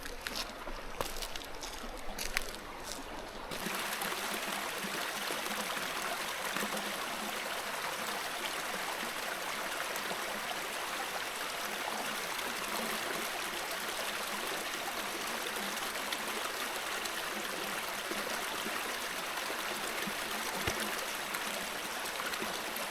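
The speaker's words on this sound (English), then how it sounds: "this is the first good water source that I've found. It's Grizzly Creek" Steady, full rushing of Grizzly Creek, a flowing stream along a backpacking loop in the Black Hills of South Dakota, runs close and unbroken for the whole stretch with no talking over it.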